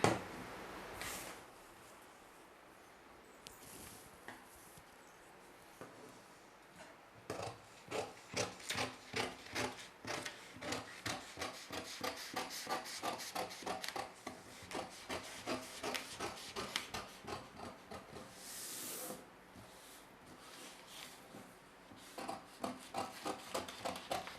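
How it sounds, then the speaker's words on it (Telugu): Scissors cutting paper along marked lines for a child's dress top pattern, crisp rhythmic snips arriving in bursts with quieter handling pauses between runs. "ఈ మార్క్ చేసిన విధంగా కట్ చేసుకుందాము"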